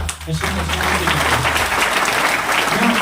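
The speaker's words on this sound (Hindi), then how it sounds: "आपको एक बार जोरदार तालियां चाहिए" An audience breaks into loud applause at a marketing business meeting, steady, dense clapping from a crowd that fills the whole moment close to the microphone.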